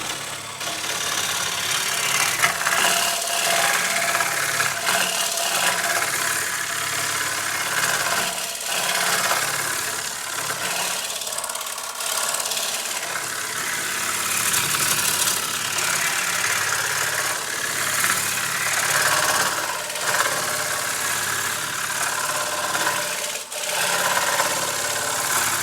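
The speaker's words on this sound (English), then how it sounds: "Finish hollowing out the rest of the bowl." Wood lathe spinning while a gouge hollows out a bowl, a constant broadband scraping hiss with a low motor drone, close and loud for the whole stretch, no talk.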